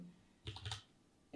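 A computer keyboard is typed on in two short bursts of quick clicking keystrokes, close and quiet, separated by a brief pause in an otherwise silent room.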